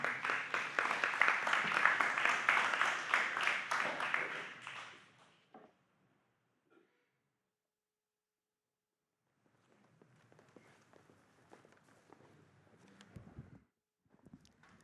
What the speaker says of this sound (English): could you please give a round of applause for